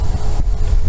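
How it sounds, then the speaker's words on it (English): Low, rumbling wind buffets the microphone in a steady roar with a brief dip partway through, outdoors near the Nevada state line on a bicycle tour. "It's windy."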